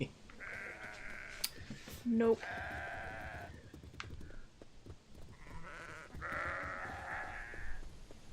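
Haskillian long-haired sheep bleat in a video game, a couple of drawn-out nasal cries separated by a pause, with a brief spoken word and background game sounds in between.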